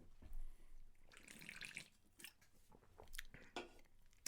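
Someone takes a quiet, close sip of water from a drink, with soft slurping and a swallow followed by small mouth and glass sounds.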